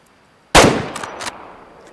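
A single sharp rifle shot from the hunting game Way of the Hunter cracks out loud and close, followed by a decaying echo and two fainter sharp impacts or reports a moment later.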